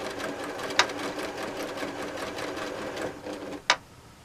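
A sewing machine piecing a cotton quilt with cotton thread and a size 12/80 needle, running in a steady fast whirring stitch rhythm, close and fairly loud, with two sharp clicks along the way.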